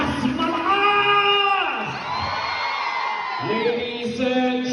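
A live concert audience in Liverpool shouts, whoops and cheers continuously and loudly, with a single voice yelling over the crowd noise.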